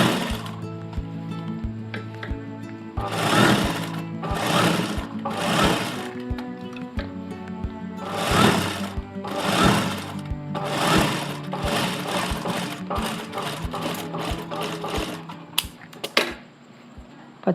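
A sewing machine stitches a princess-cut blouse in bursts of rapid, steady needle clatter, starting and stopping repeatedly, close and fairly loud with no talk.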